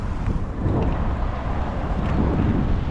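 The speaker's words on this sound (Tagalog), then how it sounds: "Oh, may hangin pang kasama." Steady, heavy wind buffets the microphone with a constant low roar, no voices, just continuous rushing gusts.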